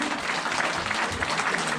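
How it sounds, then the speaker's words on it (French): Church congregation claps for the children, a dense, steady round of applause filling the whole short stretch at close range. "On applaudit tous les enfants qui sont venus."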